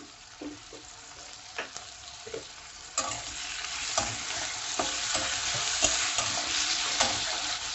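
Tomatoes being cooked down for dal tadka sizzle in a pan while a spoon stirs and scrapes at intervals, the frying hiss growing fuller and steadier after the first few seconds.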